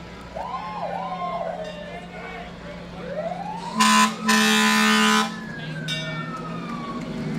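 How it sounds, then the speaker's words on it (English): An old Omaha Fire Department engine sounds its siren in a Fourth of July parade at Ralston, rising and falling wails mixed with loud horn blasts over crowd noise and distant chatter. "Engine 41 of the Omaha Fire Department."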